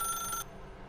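A telephone rings in The Stanley Parable video game, a brief electronic trill that stops abruptly about halfway through, close and clear, with no talk.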